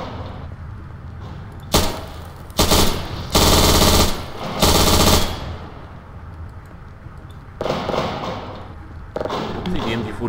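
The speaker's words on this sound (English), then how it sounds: "I'll take the MG42 more often" MG42 machine gun bursts in the video game Garry's Mod, several loud sustained volleys with gaps between, over low background game ambience.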